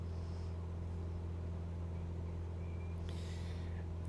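A Cessna Skyhawk's engine revs hard in Microsoft Flight Simulator 2020, a steady droning piston hum with constant low rumble filling the whole stretch, heard alone without talk.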